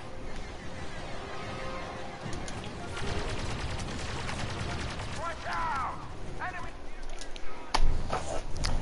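Dense, continuous blaster and gunfire from Star Wars Battlefront 2 with many shots layered together in a busy battle mix, running under a speaking voice.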